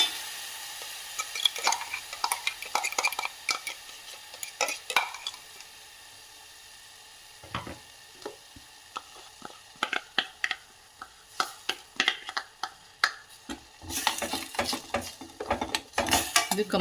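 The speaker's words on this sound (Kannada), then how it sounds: "ಈರುಳ್ಳಿ ಮತ್ತು ಬೆಳ್ಳುಳ್ಳಿ, ಟೊಮೆಟೊದು ಹಸಿ ಸ್ಮೆಲ್ ಹೋಗೋವರೆಗೂ ನಾವು ಚೆನ್ನಾಗಿ ಬಾಡಿಸ್ಕೊಳ್ಬೇಕು" Onion, garlic and tomato sautéing in a pan, a soft sizzle under repeated scraping and clinking of a spatula or spoon against the metal, with irregular bursts of stirring that grow busier toward the end.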